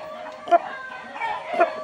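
A blind rooster, its eye damaged after illness, gives a few low throaty clucks and rasping calls up close, two small bursts with quiet breathing-like noise between them.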